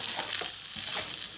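Beef browning in a hot pan sizzles loudly and steadily, a dense hiss with faint stirring scrapes running through it and no voices.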